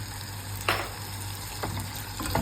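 A spoon stirring chili powder, coriander powder, turmeric and garam masala in a frying pan, with a soft steady sizzle and a few brief scraping strokes, fairly quiet.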